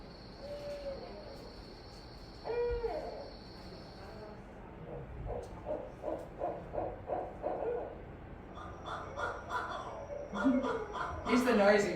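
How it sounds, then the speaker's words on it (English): A barred owl hoots in a rhythmic series of deep calls building to a loud, cackling outburst, with crickets trilling steadily in the background. "And that's the barred owl."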